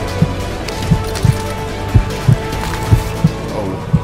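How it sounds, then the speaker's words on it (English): Heartbeat from the Call of Duty Warzone video game, a steady double-thump pulse of about a dozen low thuds repeating roughly every 0.3 to 0.6 seconds over a faint game background. "Oh, that's a heartbeat"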